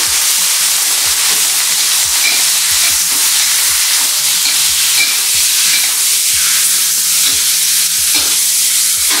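Chicken pieces fry in hot oil in a pan, a loud steady sizzle and hiss running throughout with faint clinks of stirring and no talk.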